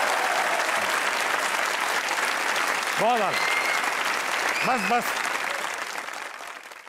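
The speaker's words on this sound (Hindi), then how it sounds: "तालियां बजाओ" Steady applause from a TV comedy show studio audience fills the room throughout, with a few short voices calling out over the clapping before it begins to fade near the end.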